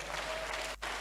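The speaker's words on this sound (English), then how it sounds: "Please clap for him." Audience applause at a talk event, a brief steady wash of clapping at moderate level with a short dip near the end.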